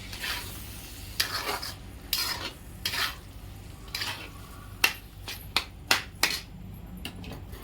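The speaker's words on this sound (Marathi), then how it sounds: "आता मिक्स करून घेते।" A spoon stirs sliced potato bhaji in a pan, giving a string of close, irregular scraping strokes over a soft background sizzle, growing quicker toward the end.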